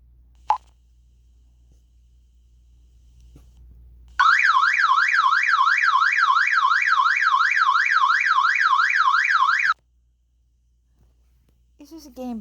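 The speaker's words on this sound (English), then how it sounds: "It's not a real alarm." A car alarm in a video game blares a loud, steady warbling wail for about five seconds and then cuts off abruptly, with a faint voice right at the end.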